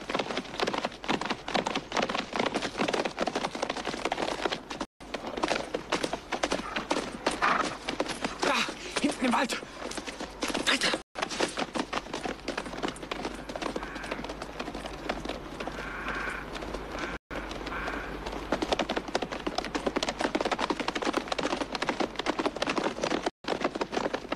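Horses gallop in a steady rush of hoofbeats mixed with rain-like patter, continuing for a long stretch with brief gaps while people talk over the clatter.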